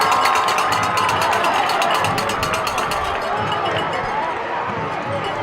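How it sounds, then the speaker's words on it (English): Loud crowd noise fills a high school varsity football stadium during a tense fourth-and-one play, a broad roar of cheering and shouting that stays steady and dense throughout, with a faint tonal whistle-like line early on. "The crowd is electric"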